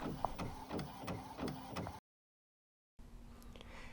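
A printer runs close by while printing onto A-Sub sublimation-receptive PET film, giving a rhythmic train of mechanical clicks and whirs, then a sudden gap of silence before a softer continuing hum and rustle.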